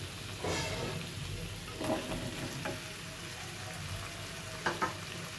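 Malabar spinach stalks drop into a pan of hot spice paste, giving a steady close sizzle with a few louder bursts and stirring clatters along the way.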